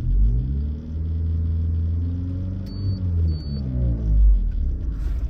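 An LPG-converted car engine revs steadily above idle toward 1400 RPM, a loud, continuous low rumble with rising and falling harmonic tones that swell near the end, heard up close with no talking.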